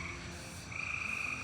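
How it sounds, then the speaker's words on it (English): Tree frogs sing at night on a Texas beach campsite, a steady chorus of high trilling calls with one shrill trill rising clearly above the rest, moderately faint and with no voices. "Those tree frogs are singing"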